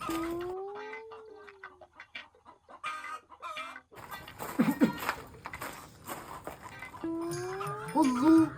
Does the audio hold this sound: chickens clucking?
yes